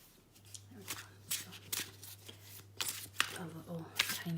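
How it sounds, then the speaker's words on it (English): A deck of cards is shuffled quickly by hand, giving a few crisp papery riffles and rustling bursts spaced unevenly over a faint electrical hum, close to the microphone. "I'm just going to shuffle these so really quickly"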